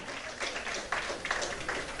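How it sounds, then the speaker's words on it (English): An audience at a youth icon grand finale applauds as a college contestant walks on stage, a steady, moderately distant wash of clapping with no talk over it. "A big round of applause, ladies and gentlemen"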